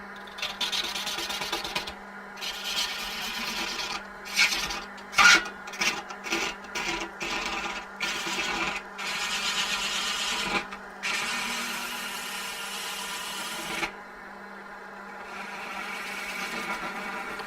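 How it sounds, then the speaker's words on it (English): A woodturning gouge cuts wood on a running lathe, giving a raspy scraping that comes in short repeated strokes and longer sustained passes over a steady motor hum. "I'm going to try and go in with my gouge, clear as much of this as I dare"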